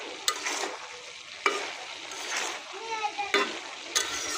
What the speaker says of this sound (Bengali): ছোটো আলু দিয়ে সিমের বিচি, সিম কয়েকটা দিচ্ছি, দিয়ে ভাজছি শুকনো মাছ দিয়ে